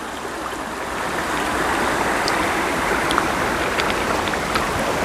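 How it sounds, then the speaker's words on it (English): A mountain stream on the Appalachian Trail rushes steadily and close by, a dense continuous wash of flowing water with no voices over it. "but here's a look at that stream."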